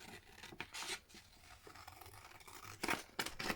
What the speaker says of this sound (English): I could even rough these up with the edge of my scissors